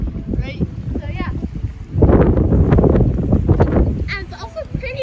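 Cold wind at Grassi Lake in the mountains, buffeting the microphone in rough, gusty rushes that swell sharply halfway through and stay loud, with murmuring voices faintly underneath.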